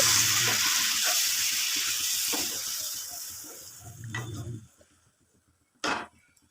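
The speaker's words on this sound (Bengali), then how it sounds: "ফাইনালি আমি জল দিয়ে দিচ্ছি" Water poured into sizzling sautéed masala in a pan for a jackfruit curry: loud frying hiss that fades as the water goes in, with stirring clinks and a final sharp utensil knock.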